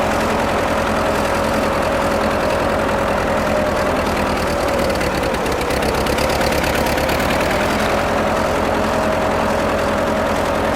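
A Ford tractor engine with carburetor problems runs steadily throughout, a loud, continuous mechanical drone with a rough, knocking edge and no speech.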